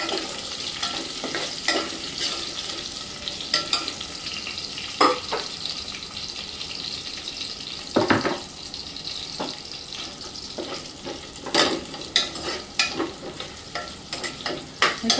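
Whole spices fry in hot oil in a pan while being prepared for a Malvani mutton curry. The sizzling crackles steadily, broken by repeated scraping clacks of a spoon stirring the spices.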